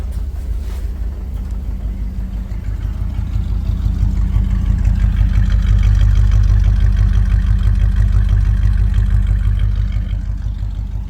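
The engine of a 1965 Dodge Van that had sat for years idles cold, a close, steady low rumble that swells slightly midway and then settles, with no voices.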